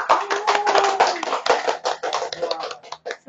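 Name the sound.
class applause for group 2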